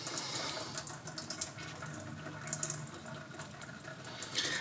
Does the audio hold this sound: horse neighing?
no